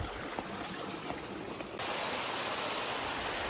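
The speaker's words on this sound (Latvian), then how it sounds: "Ūdenskritumi apkārt ezeram viens, tālāk otrs, otrā pusē." Waterfalls around a mountain lake in the Tatras give off a constant broadband rush of falling water, steady and moderately faint, with no voices.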